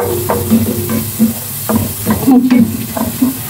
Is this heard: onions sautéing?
yes